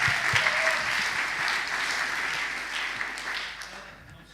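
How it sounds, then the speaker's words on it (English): A stand-up comedy audience gives a loud round of applause, dense clapping from many hands that holds strong and then gradually fades away toward the end. "You've already had a round of applause, but I think you can have another one."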